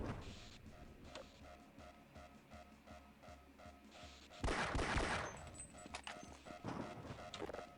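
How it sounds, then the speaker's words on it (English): Gunfire in Half-Life: Blue Shift, with repeated sharp shots in a rhythmic series and a louder, denser burst of blasts midway, fairly close and without talk. "Why can I shoot? Why am I not losing any ammo?"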